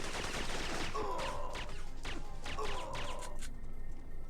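Strafing gunfire in a PlayStation Classic video game: a dense, steady volley of shots with sharp bursts recurring through most of the stretch, fairly loud, then easing off near the end, with no talking.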